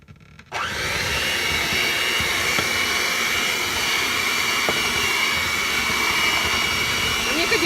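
An electric hand mixer starts abruptly and runs steadily through flour, baking soda and salt, giving a loud, even motor whir from close by.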